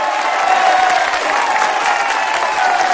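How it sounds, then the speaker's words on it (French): An audience at a gathering breaks into sustained applause, a dense, steady wash of many hands clapping throughout with no gaps. "Saluons-le de nos applaudissements."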